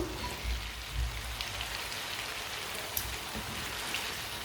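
Chopped potatoes with carrots and peas frying in a pan, a steady rain-like hiss and crackle throughout with a few soft thumps.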